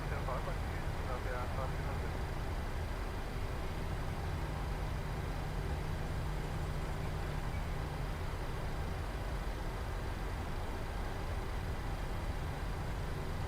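A PMDG 737 taxiing at Manchester Airport in Microsoft Flight Simulator gives a steady, loud jet engine drone and rushing noise that runs unbroken throughout, with a voice faintly under it.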